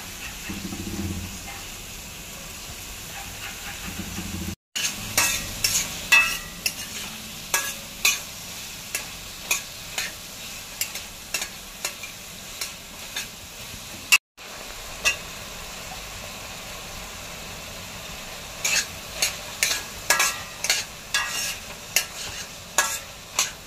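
Finely chopped capsicum for pav bhaji fries in a pan as a spatula stirs it, producing a run of repeated close scraping strokes over a low, steady sizzle, with two brief dropouts.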